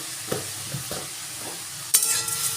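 Vermicelli being stirred with sugar and water in a pan for a sweet dessert: soft scraping strokes at an even pace, then a louder burst of sizzle and clatter near the end, no voices.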